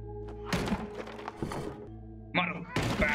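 In the horror game Little Nightmares II, a door is smashed and chopped with repeated heavy thunks and cracking impacts in uneven bursts, with quiet gaps between the blows.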